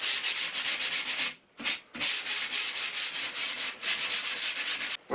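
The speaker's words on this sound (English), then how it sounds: "then you give it a rub down, that then becomes super smooth" Painted MDF being sanded by hand, a loud, close, rhythmic hiss of rapid back-and-forth rubbing strokes, briefly pausing twice before carrying on steadily.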